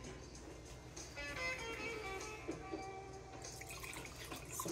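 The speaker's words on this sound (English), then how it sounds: "Some water." Plain RO water is poured into a glass in a quiet indoor room, making a faint, steady trickle with a brief rising tone over a few seconds.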